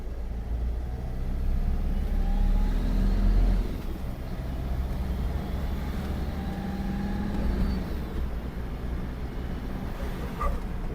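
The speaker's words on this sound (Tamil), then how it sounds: "வண்டி இப்போ செகண்ட் கியரில் இருக்குது நான் அப்படியே புஷ் பண்ணுறேன் பிக்கப் எப்படி இருக்குது அப்படிங்கிறத பாருங்கள்" An 8-seater car accelerates hard in second gear, its engine a loud, steady low rumble that swells and eases slightly across the run, with no voices.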